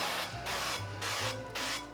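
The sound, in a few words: cooking spray on a baking dish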